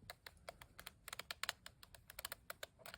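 Close, quiet clicks from the joystick knob on a mini twin-lens-reflex digital camera, a rapid irregular series of about twenty sharp taps with no voices.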